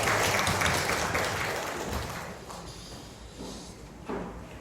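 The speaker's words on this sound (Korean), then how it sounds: "하나님께 영광의 박수를 드리겠습니다" A church congregation claps together for a Sunday worship service, a dense wash of applause loud at first and gradually thinning, with a brief renewed burst near the end.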